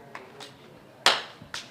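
Body percussion with a few sharp, close slaps and claps at irregular spacing, the hands striking shoulders and knees, with one louder clap near the middle and no talking.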